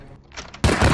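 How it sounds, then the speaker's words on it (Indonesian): Gunfire in the film Jigsaw (2017): a murky, low rumble gives way to a sudden loud blast of sustained, heavy shooting. "di saat terjadinya aksi tembak"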